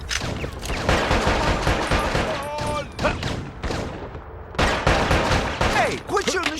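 Rapid bursts of video game gunfire crackle through most of the stretch, dense volleys with brief pauses, loud and close, with voices and game effects mixed in.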